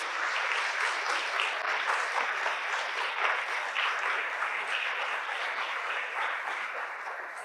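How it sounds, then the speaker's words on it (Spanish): Sustained applause from a church congregation during a sermon, dense and steady for the whole stretch, fading slightly toward the end, with no talking over it. "Dale un aplauso grande a la palabra de Dios."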